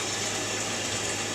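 Rinsing water from ribs being dumped out into a sink, a steady continuous pouring gush heard close up with no talk.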